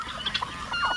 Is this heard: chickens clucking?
yes